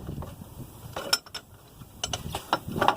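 A wrench tightens the fan clutch on a high-mileage Cummins engine, giving a few sharp metallic ratcheting clicks and clanks in bursts, close and moderately loud, over a low background hum.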